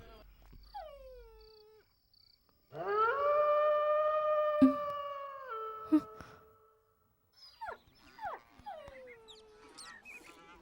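A person mimics a dog howling at night, with long drawn-out wailing tones rising and holding, followed by shorter yelping howls, loud and close, with brief speech before and after.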